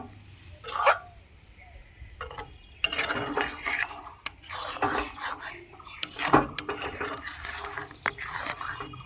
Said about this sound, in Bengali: এখন ভালো করে মশলার সঙ্গে আচারটাকে মিশিয়ে নিতে হবে।